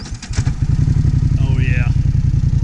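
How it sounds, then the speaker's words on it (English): A Polaris four-wheeler idles with a loud, steady, rapid low thumping close by, running continuously while a voice speaks briefly over it. "Quarter boy, start your Polaris engine."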